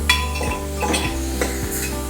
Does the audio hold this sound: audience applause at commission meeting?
no